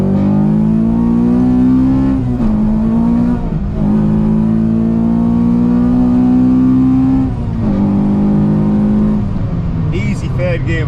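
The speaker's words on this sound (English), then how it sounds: "Easy third gear wheel spin there." A K20-swapped Honda Jazz engine revs hard in third gear with tyres spinning, a loud sustained drone rising in pitch with brief dips at shifts, close and continuous throughout.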